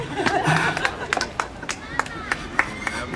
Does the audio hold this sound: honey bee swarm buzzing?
no